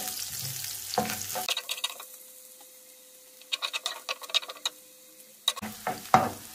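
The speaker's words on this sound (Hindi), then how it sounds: "हल्के से इनको फ्राई किया" Spring onions and garlic sizzle in a frying pan, a soft crackle broken by clusters of spatula stirring and scraping that come and go, with no talking.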